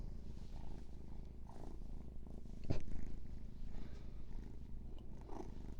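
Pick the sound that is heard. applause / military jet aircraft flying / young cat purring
young cat purring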